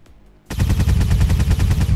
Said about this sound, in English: How can he shoot through the wall?